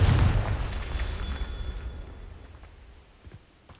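A Confringo fire spell explodes in Hogwarts Legacy, a single heavy boom at the start that rumbles and fades over a few seconds.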